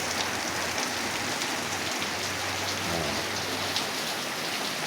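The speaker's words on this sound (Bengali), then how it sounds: "রহমতের পানি পড়তেছে।" Steady rain falling on a morning, a dense even hiss of drops on surfaces that holds at one level throughout, with no voices.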